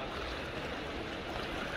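Roaring rush of Tamul waterfall in the Huasteca Potosina of San Luis Potosí, reached by paddling a boat, a steady broadband wash of falling water filling the air without a break.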